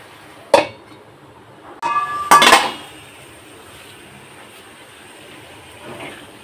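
A cooking pot gets covered with its lid: a single sharp metallic clank, then a brief scrape and a louder clattering clink as the lid settles, close by and otherwise quiet.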